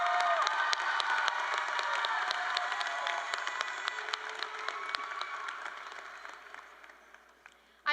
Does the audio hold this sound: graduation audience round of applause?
yes